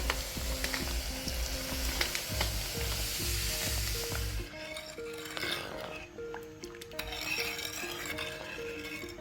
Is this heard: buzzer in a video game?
no